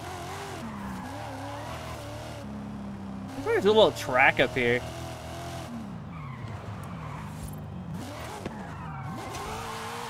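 A car drifting in Forza Horizon 5 on the expansion map, with a rumbling engine and a loud tire squeal in the middle; someone talks over it.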